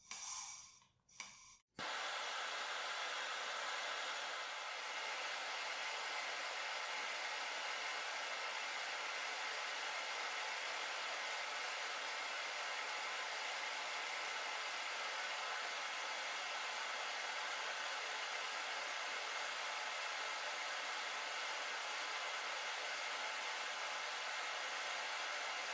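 A vz.24 rifle firing pin is heated red hot with a steady torch roar, a few brief clicks at the start and then a continuous broadband hiss held alone for the rest.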